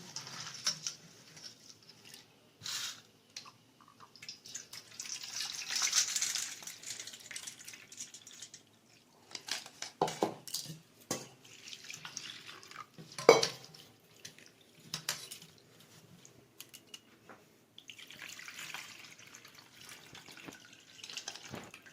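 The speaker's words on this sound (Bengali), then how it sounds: "এই চিড়েটা আমি ভালো করে ধুয়ে জল ঝরিয়ে রেখে দেব" Thick, coarse hand-pounded beaten rice (chira) rinsed in water, giving soft splashing, patter and clinks of a bowl in intermittent bursts, moderately close, with no talk.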